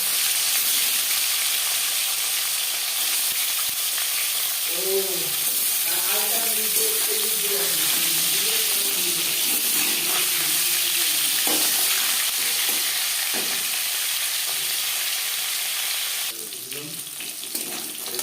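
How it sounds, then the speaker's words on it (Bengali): Marinated fish fries in hot refined oil in a home kitchen, a steady bright sizzle running throughout with a few soft clinks of utensils and a faint voice in the background. "চার চামচ রিফাইন্ড অয়েল গরম করে নিয়েছি এবার দিয়ে দেবো ম্যারিনেট করে রাখা মাছ"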